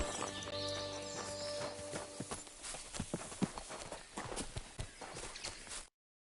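Horse hooves clip-clopping in the video game Kingdom Come, irregular close thuds on ground beginning partway through after a music-like tonal bed, steady walking rhythm that stops abruptly near the end.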